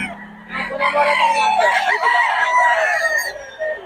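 A pumpkin sweater gamefowl rooster at Bocaue lets out one long, loud, close crow that rises and holds for several seconds before trailing off.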